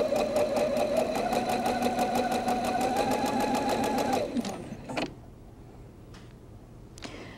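A sewing machine stitches a quilt seam with a scant quarter-inch allowance, running fast and even in a steady mechanical whir for about four seconds before slowing and stopping, followed by a few faint clicks.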